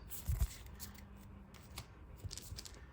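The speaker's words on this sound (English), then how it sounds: "Gonna shuffle our cards here." Trading cards are shuffled by hand for a card game, giving short dry riffling bursts and soft flicks that come in quick clusters, close and fairly quiet, with no talk.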